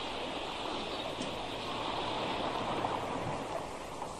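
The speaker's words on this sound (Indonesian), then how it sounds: "Ombak itu besar sekali ya." A steady broadband wash of surf fills the whole stretch, constant and moderately loud, with no voices.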